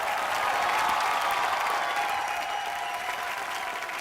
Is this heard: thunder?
no